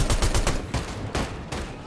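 Grenades in Fortnite go off in a rapid, loud series of sharp blasts, bunched together then spaced apart over a couple of seconds.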